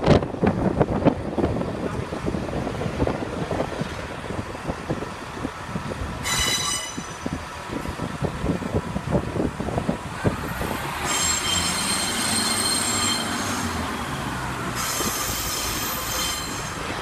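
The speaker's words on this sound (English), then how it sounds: "With the graffiti on the front of the train." A Northern Rail train with graffiti on its front rolls past, rumbling and clattering at close range. Its wheels squeal in high, sustained tones during the second half.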